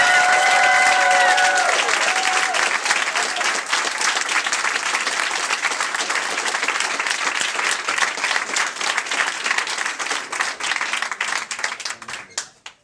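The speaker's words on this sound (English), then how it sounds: "So I'd ask you to join me in a round of applause." Sustained audience applause at a political speech, loud and dense from the start, holding steady for about ten seconds before tapering off near the end.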